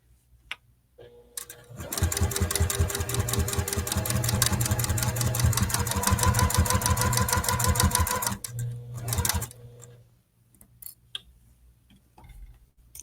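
Sewing machine stitching around the edge of a fabric cozy bowl at a quilting shop, a steady rapid mechanical whir running for about seven seconds between quiet pauses, close and loud.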